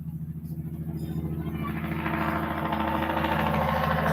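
A loud truck approaches and passes, its engine rumble building from moderate to a strong, sustained roar with a rising broadband wash over the last few seconds.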